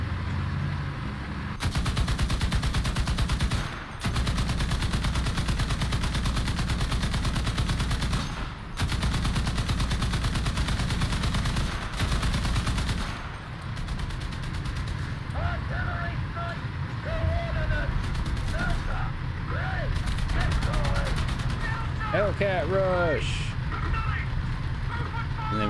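Artillery and gunfire in War Thunder during an M18 Black Cat tank match, a long sustained barrage of loud blasts and rattling fire, with shifting intensity and brief gaps, under ongoing game noise.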